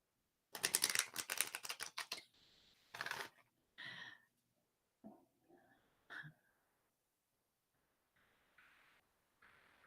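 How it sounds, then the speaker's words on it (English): Tarot cards being shuffled up close in a quiet room: a dense riffling flutter for about two seconds, followed by several shorter bursts of card slaps and soft rustles separated by pauses. "One more shuffle."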